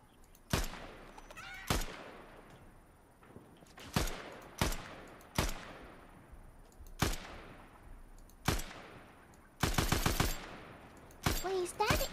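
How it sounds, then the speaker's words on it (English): Gunfire in the Fortnite video game: single sharp shots crack out every second or two, with one rapid multi-shot burst near the end, all fairly close and loud. "I hear gunfire."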